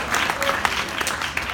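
A stand-up comedy audience at Kansas State University gives a short burst of applause and cheering, a dense, fairly distant wash of clapping over a brief moment.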